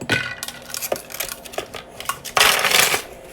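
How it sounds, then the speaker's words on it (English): Hard clinking and rattling of ice cubes tumbling into a container of herbal iced tea, several scattered hits followed by a louder rush of cubes near the end. "Now you put the ice in"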